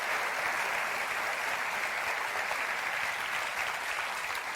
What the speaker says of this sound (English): I'm gonna clap too.